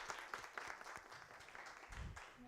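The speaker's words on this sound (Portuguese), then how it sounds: "Uma salva de palmas aqui para a Cauane, gente" Scattered, faint clapping from a small audience at a Portuguese-language talk, quiet and uneven, with a few murmurs mixed in.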